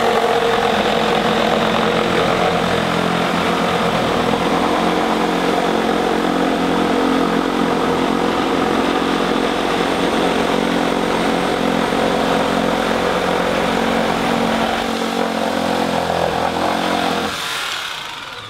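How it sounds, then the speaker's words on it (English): Milwaukee M18 FUEL Super Sawzall cordless reciprocating saw cutting under full load, a loud, steady buzzing roar held for about seventeen seconds before winding down abruptly at the end. "Now we're gonna go up against the 15 amp Super Sawzall, the best in class."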